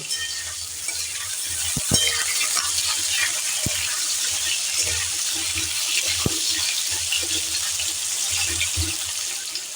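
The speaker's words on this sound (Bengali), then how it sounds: "আলুগুলো আমি সমস্ত ছেড়ে দিলাম আমি তিনখানা আলু এখানে লম্বা লম্বা করে ব্যবহার করেছি এবার এটাকে আমি একটু লাল লাল করে ভেজে নেব" Three potatoes cut into long strips fry in a generous amount of oil with spices, producing a steady bright sizzle with a few sharp knocks and stirring scrapes of a utensil against the pan.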